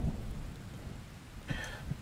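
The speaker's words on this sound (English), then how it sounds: "with that beautiful roll of thunder" Steady rain falls with a soft low rumble of thunder rolling underneath, plus a couple of brief louder cracks near the end, fairly quiet overall with no voices.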